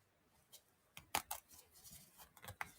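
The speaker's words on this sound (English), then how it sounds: "I'm going to rip that seam." A lighted seam ripper cutting through the threads of a fabric seam: a few faint, sharp snipping ticks spaced irregularly, close up in a quiet room.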